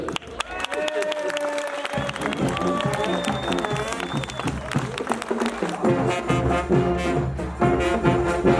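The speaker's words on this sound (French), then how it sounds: "on va demander à l'ensemble des gens présents de d'applaudir le comité des fêtes" A crowd at a soapbox derby in Chézy-sur-Marne claps for the festival committee, sustained applause with some cheering, while a voice talks over it through a loudspeaker.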